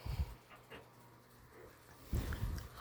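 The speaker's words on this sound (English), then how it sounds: "The dogs are getting worked up over nothing." Worked-up dogs in a house pant and whimper at low level, with short bursts of louder scuffling and yips near the start and end.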